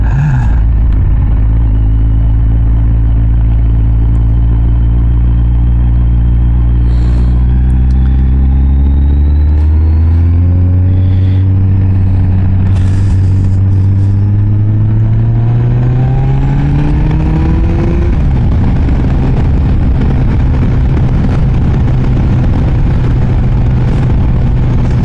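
A Kawasaki ZZR 1400 motorcycle engine while riding, loud and close, its drone climbing steadily through the gears before settling into a steady high cruise, with wind rush and no talking.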